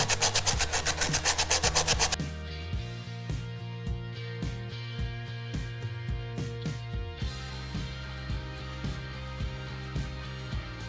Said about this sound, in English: now I'm gonna scuff it up with some 80 grit sandpaper